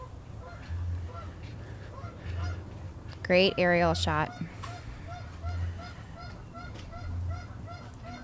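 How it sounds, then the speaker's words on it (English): Many geese honk at a lake, a burst of loud overlapping calls rising midway above a steady chorus of more distant honking, while someone speaks briefly. "there are a lot of birds at this lake"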